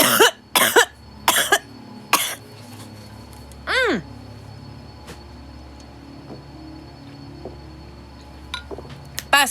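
A person coughs hard several times in close, rapid bursts, then gives a drawn-out throaty hack and trails off into quiet room noise with a few light clinks.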